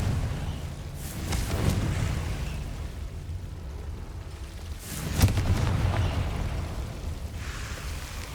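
Confringo fire spells in Hogwarts Legacy set off two low booming blasts, roughly four seconds apart, each swelling into a rumbling, crackling burst over a murky background roar.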